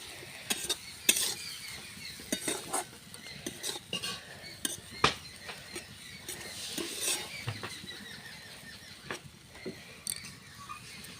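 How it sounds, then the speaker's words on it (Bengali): A spoon scrapes and clinks against a pan while onion stalks are stirred with fried spice paste, irregular metallic taps and scrapes, fairly quiet and close, with no talking. "এবার পেঁয়াজ গাছগুলো দিয়ে দেবো এই যে দিয়ে ভালো করে কষিয়ে নেব"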